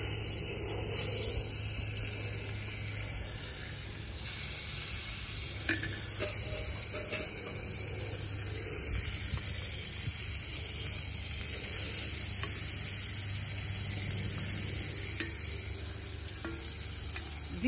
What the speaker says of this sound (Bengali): এখন করব পরগি মাছ ভুনা।